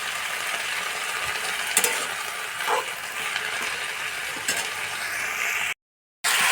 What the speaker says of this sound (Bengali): আমি মিডিয়াম আঁচেই ভেজে নিচ্ছি।